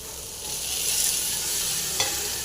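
Bajji chilli mixture fries in a pan with a steady, bright hiss that builds slightly and holds. One brief stir or scrape comes near the end, close up and without voices.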